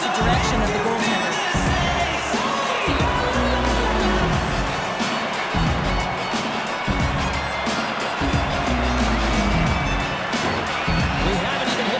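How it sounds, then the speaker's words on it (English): Arena crowd in NHL 26 hockey, a loud, steady roar of cheering spectators filling the whole clip, with a commentator speaking over it. "You can feel the energy in this crowd."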